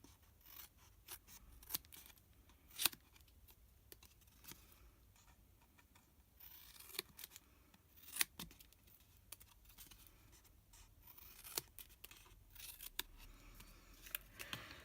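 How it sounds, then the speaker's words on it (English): Scissors cut and notch paper for a small stamped gift box, producing a sparse series of sharp, close snips and clicks over quiet background, with no talk. "And then we'll notch these out and cut them down."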